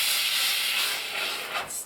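A steam iron pressing fabric quarters releases a steady, fairly loud hiss of steam that holds for nearly two seconds and eases off slightly near the end.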